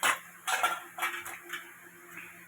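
Metal lid clattering onto a cooking pot of bottle gourd with fish, a few sharp clinks and scrapes close by, then quieter settling knocks.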